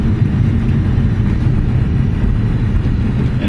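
A BMW M3 shifts itself up into second gear under light acceleration, heard as a loud, steady engine and road drone from inside the car with no clear break.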